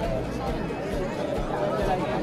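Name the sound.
large crowd chattering at a temple festival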